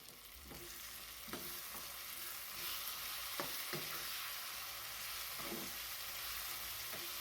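Green chilies fry in an open, uncovered pan, making a soft, steady sizzle with occasional stirring scrapes, fairly faint and without any voices.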